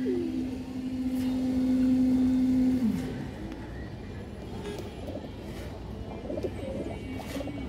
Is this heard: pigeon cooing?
yes